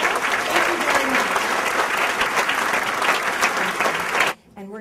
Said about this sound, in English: A round of applause for our members of the media.